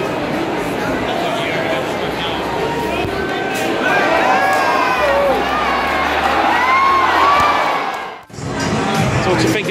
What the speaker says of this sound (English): we joined the crowds on the way to Fenway Park.